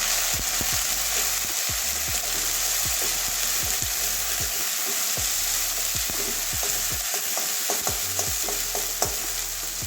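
Turmeric and garlic frying in hot oil for a tomato prawn curry, a constant loud sizzle with repeated spoon scrapes and stirring clicks close by.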